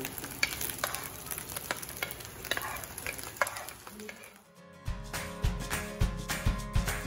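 Corn kernels stir-fried in a pan after onions, a steady sizzle with repeated scraping and tossing strokes that grows louder and busier partway through, heard up close with no talking.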